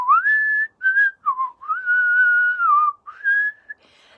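A person whistles a loud, clear melody of several sustained notes broken by brief pauses, close up and with nothing else heard.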